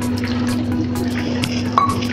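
Water poured into a bowl of grated jaggery gives a steady trickling fill under a constant low hum, ending with a small clink near the finish; no one talks.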